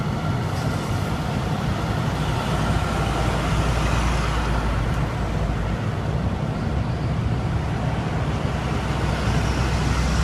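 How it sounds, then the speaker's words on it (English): Steady roar of U.S. Forest Service and other fire agency vehicles rolling past on Placerita Canyon Road near the Sand Fire, a continuous broadband wash of tyre and engine noise with no breaks, moderately loud and close. "we see some of the vehicles, U.S. Forest Service and other fire agencies coming by us here on Placerita Canyon Road"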